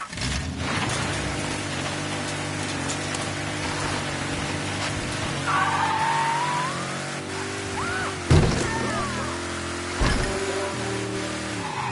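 A car engine in Mafia 3 hums steadily throughout with a low drone, over rain-like hiss, with a few brief louder bumps and tonal swells near the end.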